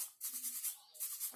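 A small brush scrubs the comb and face of a Bangkok rooster being treated for fungus, making a close, soft, rhythmic bristly scratching in quick repeated strokes with a brief pause partway through.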